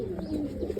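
A pigeon gives a soft, low coo at close range, a brief murmuring call over a quiet background.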